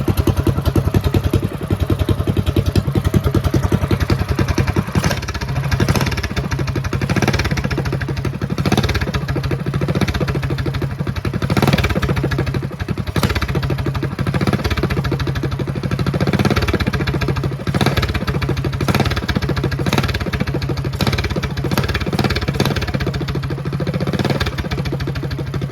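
A Mega Moto 212 minibike engine fitted with an RLV one-inch trumpet exhaust tip idles and revs close by, a loud, lumpy, clattering putter that rises and falls in repeated bursts with no talking.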